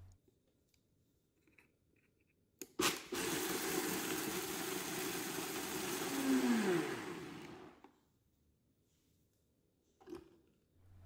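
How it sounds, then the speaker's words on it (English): Soaked rice, strawberries, a soaked cinnamon stick and their soaking liquid are blended on high. A blender roars on abruptly and runs loud and steady for about five seconds, its pitch shifting slightly, then cuts off into near silence with a few faint knocks. "I'm going to blend this on high for about 1 minute"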